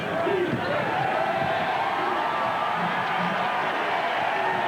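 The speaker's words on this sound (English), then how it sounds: "The applause in the background is for Nate Mast" A basketball arena crowd at an Iowa Hawkeyes versus Illinois college game gives dense, sustained applause mixed with murmur, filling the space evenly for several seconds.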